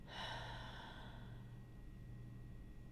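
A single long, deep exhale during a guided breathing exercise, a soft breathy rush that starts strongly and tapers off over a few seconds, quiet and close against a faint steady background hum.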